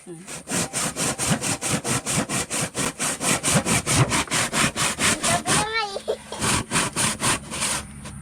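A handsaw rasps through driftwood in fast, regular back-and-forth strokes, close and loud, pausing briefly while someone speaks before sawing resumes.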